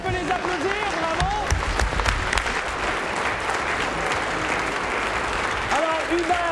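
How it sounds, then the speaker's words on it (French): A crowd at a youth quiz tournament final applauds the winning teams with steady, dense clapping throughout, while a voice talks over it. "On peut les applaudir, bravo!"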